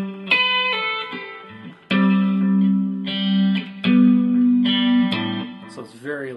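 An electric guitar plays light two-note chords from a song, with short plucked stabs and sustained, effect-coloured notes in a loose rhythm, played alone.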